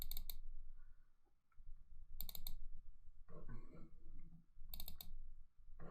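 Three short, crisp computer mouse clicks sound separately every couple of seconds, quiet and close against a faint background hum.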